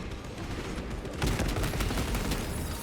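Suppressive gunfire in a video game battle near chains, with dense overlapping bursts of shots that intensify into a loud continuous fusillade partway through; no talking.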